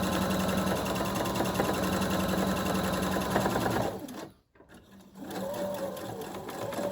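Sewing machine stitching across seams, a loud continuous close whir for about four seconds, a brief stop, then stitching resumes.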